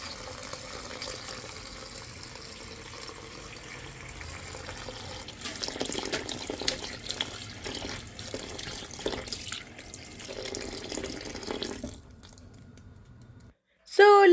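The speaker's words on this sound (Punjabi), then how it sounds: "ਇੱਥੇ ਮੈਂ ਆ ਭਾਂਡੇ ਵਾਸ਼ ਕਰਨ ਦੇ ਹੀ ਤਵਾ ਵਗੈਰਾ ਤੇ ਨਾਲੇ ਨਾਲ ਮੇਥੀ ਵੀ ਵਾਸ਼ ਕਰ ਲੈਣੀ ਆ" A kitchen tap runs steadily while dishes, including a flat griddle pan, and fresh fenugreek leaves are washed, water splashing and clattering for about twelve seconds before cutting off abruptly.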